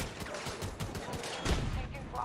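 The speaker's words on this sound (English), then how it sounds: "Incoming fire!" Incoming gunfire in the video game Battlefield 2042, a quick run of distant rapid shots and cracks over busy battle noise, fairly faint and steady for a couple of seconds.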